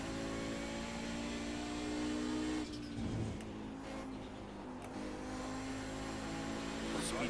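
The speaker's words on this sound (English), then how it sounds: "I still blip the downshifts just because it makes life easier." An Audi race car engine in iRacing at Road America drones steadily, then dips and blips briefly on downshifts before settling back to a sustained roar.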